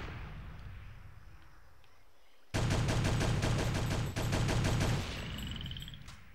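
Enemy gunfire erupts in the video game Conspiracy: Weapons of Mass Destruction, a sudden loud stretch of rapid automatic shots after a quieter background, with a brief gap midway and a fading tail.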